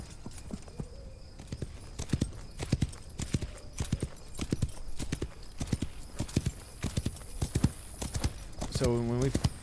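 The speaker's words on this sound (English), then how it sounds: "Back my horse down a mountain." Horse hooves clip-clop steadily downhill on a mountain road in the Wild West Online video game, a rhythmic run of close, distinct footfalls that continues throughout, ending with a brief whinny-like sound.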